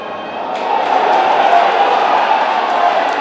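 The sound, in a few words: boxing crowd cheering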